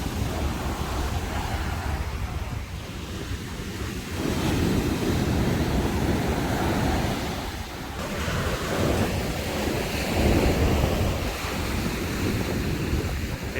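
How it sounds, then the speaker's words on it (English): Choppy sea waves on windy Lamai beach, Koh Samui, a steady roar of surf with heavy wind buffeting the microphone, swelling and easing in broad surges. "the sea seems to be a bit choppy"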